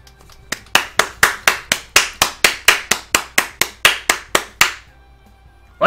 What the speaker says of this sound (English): A small round of applause echoes from the garage.